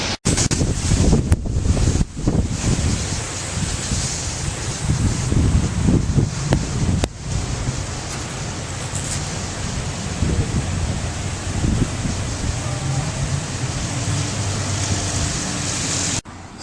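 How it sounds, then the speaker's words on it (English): Strong wind from Hurricane Earl in Halifax, Nova Scotia, roars and buffets the microphone without a break, with heavy gusts in the first seconds and a steady blustery rush after that. "the storm is basically over, and now it's just a very windy day"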